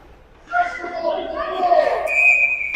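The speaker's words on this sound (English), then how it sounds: "And we have a whistle." A referee's whistle at a youth ice hockey game, one sharp high blast near the end cutting over crowd noise and excited voices.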